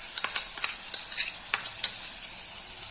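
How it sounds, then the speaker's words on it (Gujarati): Water tipped into a hot spiced tempering for chutney sets off a steady bright sizzle, with faint scrapes and spatters scattered through. "થોડું પાણી નાખી અને એ આપણે વઘારમાં નાખી દેવાનું છે"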